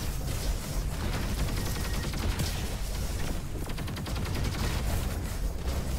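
Dense, continuous gunfire from a Roboquest firefight, a steady crackle of shots filling the whole stretch at loud, even level, with a distant sniper somewhere in the mix and no clear talk.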